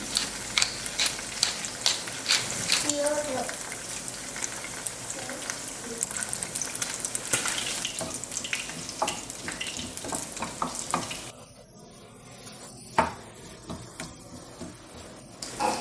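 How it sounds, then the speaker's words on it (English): Sauce of black pepper, soy sauce and ketchup sizzles steadily in a pan with stirring scrapes, then quietens near the end to softer bubbling and occasional clinks. "I then added black pepper, soy sauce, and ketchup and let it cook for 2 to 3 minutes"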